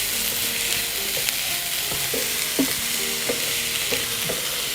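Sliced onion with green chili and ginger sautéing in a pan, a steady sizzle broken by spatula stirs and light scrapes, close up over a faint tonal background hum.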